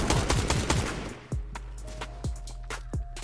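Sniper rifle shots in the Fortnite video game on Nintendo Switch: a rapid burst of gunfire at the start, then single sharp cracks spaced about a second apart, each with a short ringing tail.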